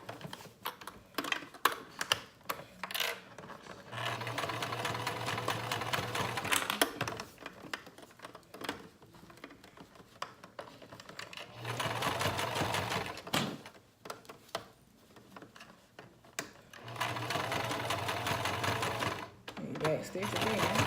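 A sewing machine stitches in several bursts of rapid, even whirring with pauses between, starting with short taps and ending in back stitching, close by.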